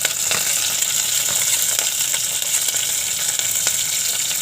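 Curry leaves sizzling in hot oil in a pan, a steady, bright frying hiss with faint crackles and stirring, close and continuous without speech.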